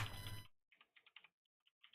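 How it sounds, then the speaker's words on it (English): Computer keyboard typing during a live stream, heard as a few short bursts of quiet, close keystrokes separated by pauses, following a brief loud noisy sound at the start. "Typing on a keyboard."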